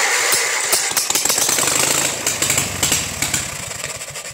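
The engine of a rat rod cranks as the ignition key is turned, a loud, close, rapid chugging of uneven starter pulses that keeps trying without catching.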